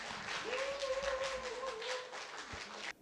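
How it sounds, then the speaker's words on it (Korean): A small audience at a speaking event applauds in welcome as the next speaker comes up, a fairly quiet, steady patter of clapping with a sustained tone running beneath it before it cuts off. "여러분 환영의 박수 부탁드립니다."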